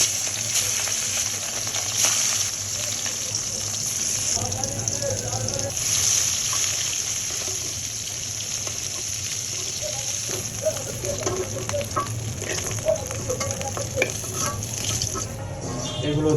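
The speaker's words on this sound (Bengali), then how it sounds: "এখন আমরা মাছগুলো ভেজে নেব" Sea poya fish frying in oil in a wok, a steady close sizzle running throughout with occasional stirring clatter, constant and fairly loud.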